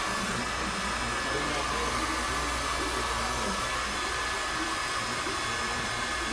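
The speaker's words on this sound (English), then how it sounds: "I'm taking the blow dryer, put it directly on the hair" A blow dryer roars close and constant, a loud, even rush of air that never lets up.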